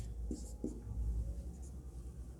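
Chalk or marker writing on a board during a Class 9 maths lesson on lines and angles, a few short scratchy strokes close by over low room hum, with no talk.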